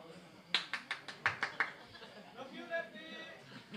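Someone claps a short burst of about eight quick, sharp hand claps near the mic, followed by a person speaking.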